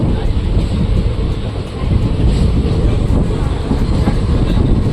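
A passenger train rolls along the rails through open countryside, heard from on board as a loud, constant rumble with faint rhythmic clickety-clack and wind buffeting the microphone.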